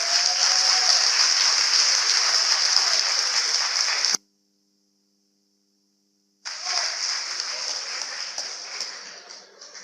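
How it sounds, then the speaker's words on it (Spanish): An audience applauds at the close of a live interview event, a dense, steady burst of clapping that cuts off abruptly, falls silent for a couple of seconds, then resumes and fades. "Un aplauso."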